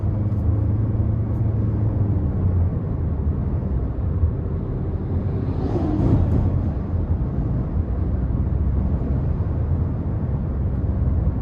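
Steady cabin noise inside a 2026 Toyota Corolla Cross XLE with a CVT while driving, a constant low road and engine rumble with a faint whooshing swell midway and no talking.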